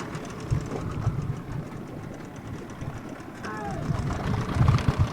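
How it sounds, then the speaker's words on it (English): A low boat engine idles steadily in neutral on an outrigger boat with water sloshing around it, fairly close and continuous throughout. "let me just put the engine in neutral"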